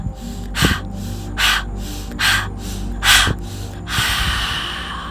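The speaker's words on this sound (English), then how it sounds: "Continuing to squeeze the belly in towards the spine with every exhale and expanding with every inhale." Forceful breathing exercise with sharp, belly-squeezing exhales, heard as four breathy bursts at a steady pace and then a longer sustained exhale, close and alone with no talking.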